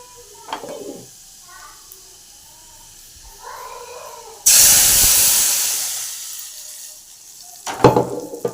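Cooked lentils (dal) hit hot tempering in a pan with a sudden loud sizzling hiss of steam that slowly fades over a few seconds, with a voice talking briefly before and after.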